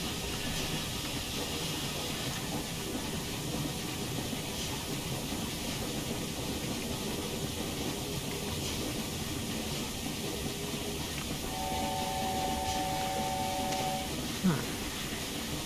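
A steam locomotive in Train Simulator 2021 on a Fife Circle route steam excursion runs with a steady, broad hiss and rumble throughout, and a faint sustained whistle-like tone appears near the end.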